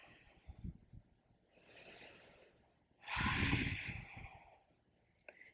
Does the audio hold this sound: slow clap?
no